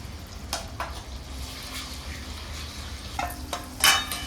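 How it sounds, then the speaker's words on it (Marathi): Cumin and a tomato, ginger and garlic paste fry in a pan for Bombay-style pav bhaji, giving a steady sizzle broken by a few scraping stirs and a louder clatter near the end, with no voices. "हे जिरे टाकले छान हलवलं आता टोमॅटो अद्रक लसूणची पेस्ट टाकली"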